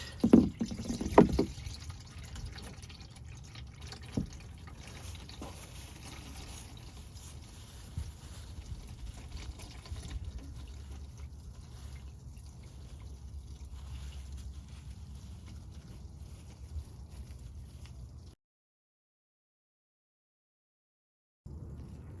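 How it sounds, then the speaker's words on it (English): Engine oil draining from a Lexus LS 500 onto cardboard on a driveway, a faint steady trickle with a few louder drips at the start, then quiet for the last few seconds. "Okay, the oil is still draining"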